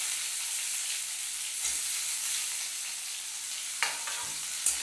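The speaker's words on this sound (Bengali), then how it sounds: "এই পেঁয়াজ কুমড়ো এগুলো কিন্তু বেশি ভাজা যাবে না" Onion and pumpkin fry in oil for dalia khichdi, giving a steady, fairly quiet sizzle with a few soft stirring knocks toward the end.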